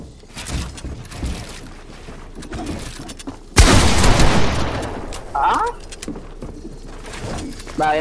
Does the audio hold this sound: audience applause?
no